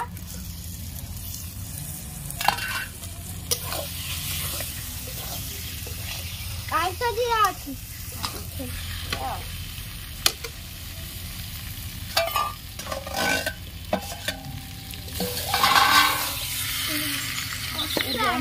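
Potatoes frying in a pan for a village-style Odia fish curry, a sizzling hiss broken by repeated scraping and clattering stirs, with someone talking intermittently over the cooking.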